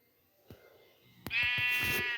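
A sheep in the video game Minecraft gives one clear, sustained bleat near the end, after a few soft clicking taps in an otherwise quiet scene.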